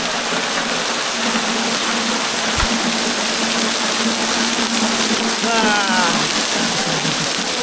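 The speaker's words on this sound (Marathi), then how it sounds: "इथे बघा वॉटरफॉल पण आहे मस्त आणि स वरून डोंगरावरून पाणी पडतं आहे" Waterfall at Dhareshwar temple in Patan, water falling from the hillside, a loud, dense, continuous rushing roar that fills the scene, with a faint voice now and then.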